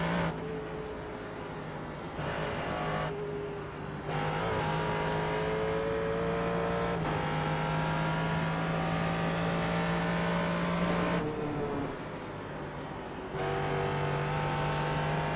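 Ford GT3 race car lapping Sonoma Raceway, engine roaring loudly and steadily with repeated upshifts, brief lifts and rising revs, heard alone without talk.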